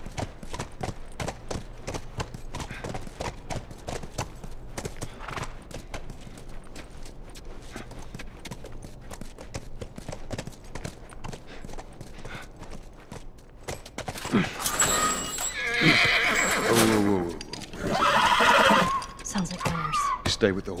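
A horse in The Last of Us game clip-clops with rapid, steady hoofbeats, then whinnies loudly in two bursts near the end, while characters talk over the scene.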